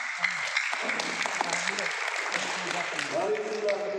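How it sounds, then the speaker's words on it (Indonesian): An audience at an Indonesian Labour Party political gathering claps continuously, a dense steady patter of applause with a voice speaking over it. "Tepuk tangan kita semua."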